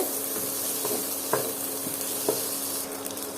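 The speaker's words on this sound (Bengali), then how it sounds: "সবগুলো একসাথে দিয়ে আবার একটু কিছুক্ষণ ভেজে নেব" Vegetables sizzle steadily in a hot pan before noodles are added while a utensil scrapes and taps now and then as it is stirred.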